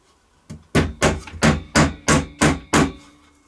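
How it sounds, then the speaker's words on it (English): Hammer tapping small nails into a wooden weaving loom: seven sharp, close knocks in a steady rhythm, each ringing briefly, with no talk. "And what I'll do is I'll just tack in the nails"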